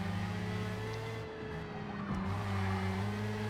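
A Formula Mazda race car in Forza Motorsport at Indianapolis Motor Speedway, with a sustained engine drone whose pitch holds and then shifts briefly as the car changes speed, steady and moderately loud.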